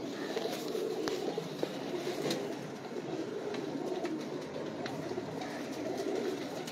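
A flock of fancy pigeons kept by a pigeon fancier coos steadily and close by, a continuous throaty murmur with a few sharp clicks and flutters scattered through it.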